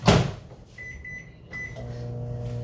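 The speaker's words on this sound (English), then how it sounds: "I'm going to microwave it for a minute" A microwave oven hums steadily after a clunk of the door closing, with a faint steady tone and a low motor drone.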